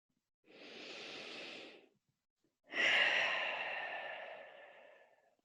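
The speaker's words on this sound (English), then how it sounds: "as we breathe in and out." Slow, deep breaths during a yoga child pose: one long airy inhale, a short pause, then a stronger, gradually fading exhale, close and soft with no talk.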